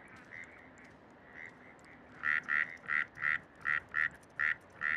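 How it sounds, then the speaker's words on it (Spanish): Frogs in Bogotá calling for mates during breeding season: a few faint croaks, then a quick run of about eight loud, evenly spaced calls over low background noise. "Desde muy temprano, se escucha su croar para atraer pareja."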